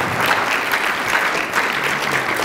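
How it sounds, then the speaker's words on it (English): Audience applause after a social media panel Q&A, a steady dense wash of many hands clapping at moderate loudness, filling the moment alone without voices. "Applause"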